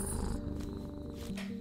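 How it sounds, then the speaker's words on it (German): A cat purring in the horror game We Harvest Shadows, a close, soft, continuous rumbling purr lasting under two seconds with no voices. "Die schnurrt!"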